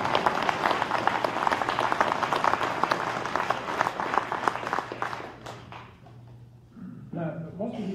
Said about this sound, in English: Did I hear any applause there?